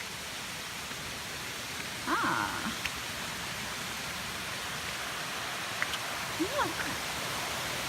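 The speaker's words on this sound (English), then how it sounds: "And there's a little waterfall." A small mountain waterfall near an old reconstructed logging railroad in the Blue Ridge Mountains gives a steady, broadband rushing hiss throughout, with a few brief voices heard faintly over it.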